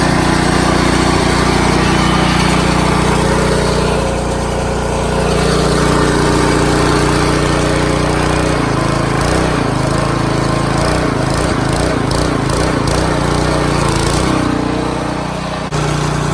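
Cummins diesel swapped into a 1950 GMC truck runs steadily and loud, a low continuous rumble with shifting, pulsing tones partway through as the engine speed wavers.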